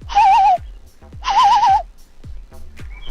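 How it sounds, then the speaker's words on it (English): A bird heard on a social media clip being played back gives two loud, warbling, hoot-like calls, each about half a second long, separated by a short pause, with faint knocking in the background. "That bird back there."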